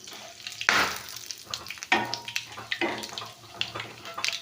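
Urad dal, cumin and chana dal hit hot tempering oil with bursts of crackling sizzle and stirring scrapes. The frying is close and loud, with no voices over it.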